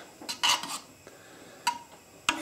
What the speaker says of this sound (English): We'll just give that a quick stir up.